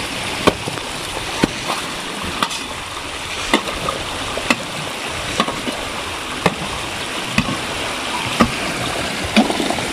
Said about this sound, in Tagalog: Yun, umusos na ang tubig.